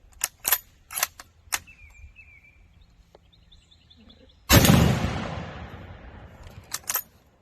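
A single loud, close shot from a Mosin M44 carbine firing 7.62x54R, with a long rolling echo, preceded and followed by sharp clicks and clacks of handling.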